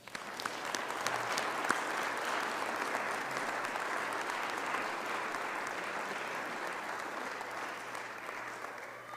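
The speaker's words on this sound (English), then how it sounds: "will you help me give Tony Wagler a round of applause?" A sustained round of applause from a seated audience greets Tony Wagler after an energy sustainability talk, dense steady clapping at moderate level that holds for the full length.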